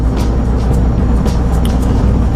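A Smart car 4.2 Passion on the road gives a steady, loud low drone with road rumble from inside the cabin, unbroken for a couple of seconds.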